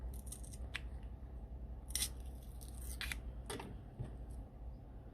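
Scissors snipping a hole in the cardboard of a miniature room for a small music box: several crisp close cuts, mostly in short bursts, with quiet background and no talk.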